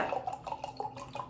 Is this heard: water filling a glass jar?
yes